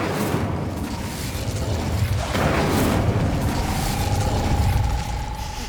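A rumbling magical blast rolls out steadily in a Hogwarts Legacy game scene, with mechanical grinding and a rising whine layered over the continuous roar.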